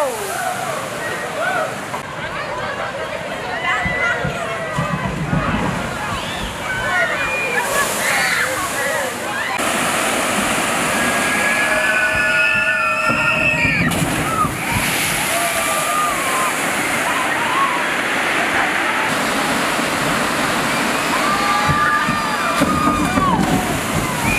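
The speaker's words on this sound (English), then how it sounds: "Like big boat splash rides? Well, they've got one here called Sploosh." Sploosh boat splash ride at Knoebels amusement park churning water, with a loud continuous rush and slosh of splashing, and crowd voices and shouts mixed throughout.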